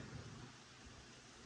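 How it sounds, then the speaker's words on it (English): Steady rain hiss with a low, distant rumble of thunder rolling underneath, constant and fairly quiet throughout. "You might hear some thunder in the background."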